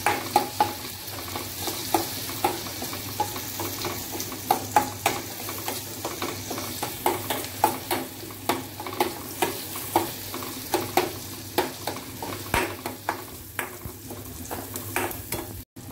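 Ground red masala paste is stirred in a sizzling frying pan for stuffed brinjal, with rhythmic scraping strokes of the spoon repeating every second or so over a continuous fry hiss.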